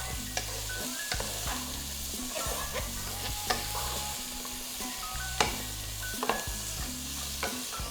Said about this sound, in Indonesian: Kita tumis-tumis dulu.